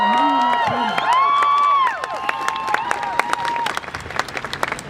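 A crowd claps and cheers at a healthcare workers' procession in central London, steady applause rising then thinning into scattered claps, while a voice carries over the start through amplification.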